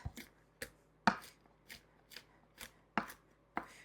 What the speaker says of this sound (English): our pecans have cooled, and we are going to chop them up